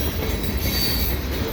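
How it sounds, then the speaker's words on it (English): A CSX fast freight train passes close by at the Dorval ramps near Montreal, a steady loud rumble of rolling wheels and cars with faint high squealing, no voices. "It's been a while since I've seen a CSX train with CSX power."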